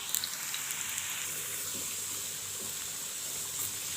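Potatoes frying in a pan with oil give a steady, close sizzle that hisses evenly throughout, with a few faint crackles and no talking over it.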